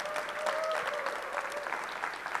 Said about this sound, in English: You can give him a big clap.